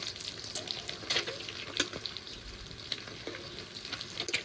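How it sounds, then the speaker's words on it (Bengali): Crackling, spitting sizzle of eggs frying in hot oil, with sharp pops and the occasional scrape of a spatula flipping them. "ডিমের এক সাইড ভাজা হয়ে গেছে উল্টে দিচ্ছি"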